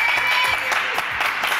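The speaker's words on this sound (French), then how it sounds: "on l'applaudit très très fort" Studio audience applause for a guest musician on a French TV news-entertainment show, dense steady clapping filling the short moment at even loudness, with faint crowd murmur beneath.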